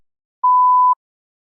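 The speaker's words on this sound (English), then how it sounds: "You may begin to prepare your response after the beep." A single steady electronic test beep sounds alone for about half a second, a pure clean tone against total silence.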